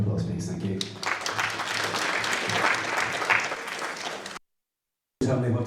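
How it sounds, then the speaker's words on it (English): An audience applauds the Chairman of the Board of Management, Seamus Finnegan, at an evening gathering: dense, steady clapping for about three seconds, then a brief cut to silence before sound resumes. "Give you a round of applause, please."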